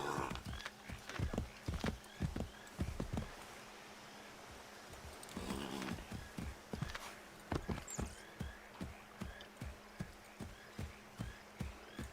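Horse hooves clip-clop in a steady walking rhythm in Assassin's Creed III, with a neigh or whinny rising partway through, close and fairly quiet over faint rustling.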